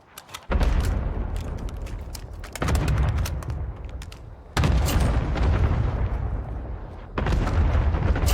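Cluster strike explosions in the Modern Warfare video game: a series of loud, heavy booming blasts hit in several waves, each burst a dense rumbling roar that fades before the next barrage lands.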